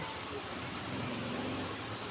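Steady rainfall hisses evenly, a soft constant patter without distinct drops standing out.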